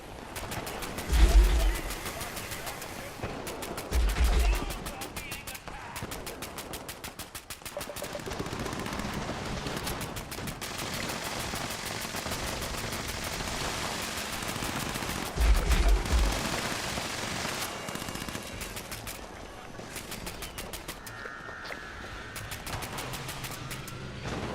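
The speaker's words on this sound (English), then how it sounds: "Notice I'm only firing near them, not at them." Weapon fire in Fallout 76: bursts of rapid gunshots and heavier booming reports recur across the stretch, with talk running underneath and brief pauses between volleys.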